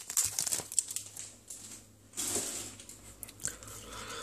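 Crinkling plastic foil of a Pokémon Team Rocket trading card booster pack wrapper being opened, with close crackles and tearing rustles in short bursts, pausing briefly midway before more crinkling resumes.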